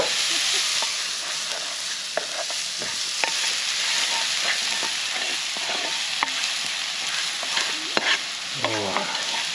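Food is stirred in a camp pan over a fire on a Cape York freshwater trip, with a steady sizzle and repeated scraping spoon strokes.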